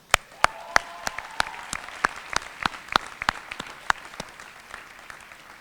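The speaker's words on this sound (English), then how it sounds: "I ask everyone here for another great round of applause" A crowd at a UCLA law school commencement claps, with sharp, distinct hand claps standing out close by over a broader bed of applause.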